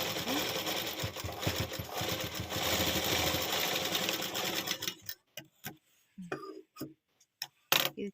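A sewing machine stitches piping onto a ready-made blouse in a fast, steady mechanical run for about five seconds, then stops, leaving scattered handling clicks and taps.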